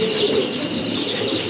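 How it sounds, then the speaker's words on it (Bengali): Domestic pigeons coo steadily at close range on a pigeon breeding farm, a soft continuous murmur from several birds with light chirps mixed in, no voices. "অনেক সুন্দর কবুতর, খুবই অ্যাট্রাকটিভ একটা কবুতর"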